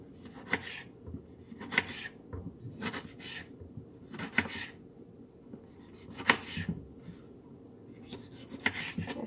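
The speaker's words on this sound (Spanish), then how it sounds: "Así vamos a cortar todos los jitomates en cuadritos" Knife chopping tomatoes into small cubes on a board, a steady run of sharp, close taps in irregular bursts with short pauses between them.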